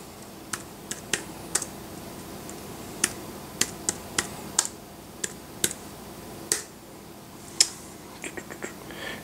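Crisp, irregular key clicks come from typing on a Bluetooth keyboard paired with a BlackBerry PlayBook tablet, with sharp taps spaced across a quiet room and no voices.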